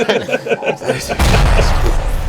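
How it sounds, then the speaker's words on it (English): An explosion sound effect goes off suddenly after a stretch of talk, a loud broad booming rumble that swells and sustains to the end. "there was just an explosion sound effect."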